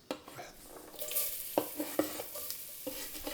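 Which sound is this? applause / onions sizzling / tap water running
onions sizzling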